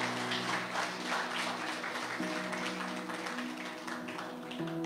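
Church congregation clapping and applauding for several seconds, a dense steady patter of many hands with a sustained musical tone underneath.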